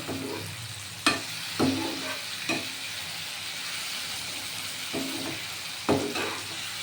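Mourola fish curry cooking in a pan: a soft steady sizzle runs throughout, broken by a handful of sharp scrapes or taps spaced a second or so apart, quiet and close.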